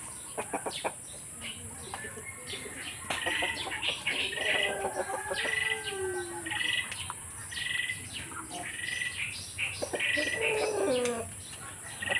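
Chickens cluck and chatter nearby at a rural home in Bayabasan, Palayan, in a steady stream of short calls, with other birds chirping in the background over a constant outdoor hiss.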